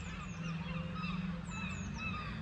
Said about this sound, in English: Some ducks flying up overhead.